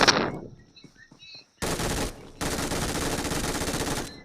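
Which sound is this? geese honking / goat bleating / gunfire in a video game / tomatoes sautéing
gunfire in a video game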